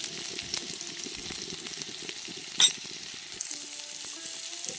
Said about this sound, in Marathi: थोडेसे फक्त मसाले हलके हलकेच मसाले मी घालणार आणि असे परतून घेणार